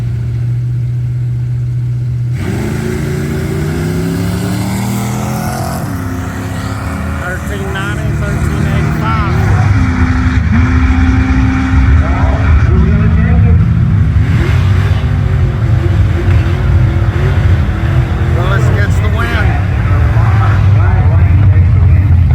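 Drag race cars, including a Mustang in the left lane, idle and then launch hard, with loud engine roar and rising revs over about twenty seconds while people talk.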